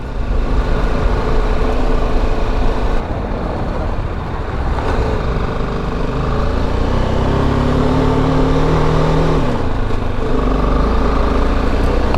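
Motorcycle riding a narrow Black Sea road near Trabzon and Rize in Turkey, its steady loud engine and wind roar continuing throughout while an oncoming vehicle approaches, engine pitch shifting midway, with faint talk underneath.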